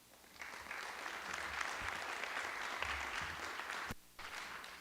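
A large crowd at a school district board meeting gives sustained applause for teacher award winners, a dense, steady roar of many hands that holds for several seconds before briefly dipping and resuming.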